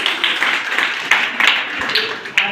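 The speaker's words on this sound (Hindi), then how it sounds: "एक ताली अपने लिए भी आप लोग" A room of coaching students claps for themselves, a close, busy patter of many hands, steady throughout with a few louder individual claps standing out.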